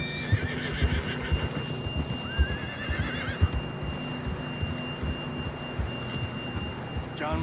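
Horse neighing in the video game Red Dead Redemption 2, with several whinnies over a steady clip-clop of hooves and rhythmic thuds, a constant high whistling tone in the background.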